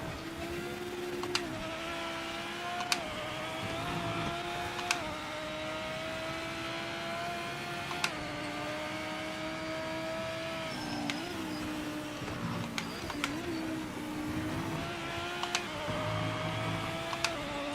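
Race car engines in the Project Motor Racing video game, steady droning engine tones with shifting pitch and occasional sharp gear-change clicks, the cars heard continuously throughout.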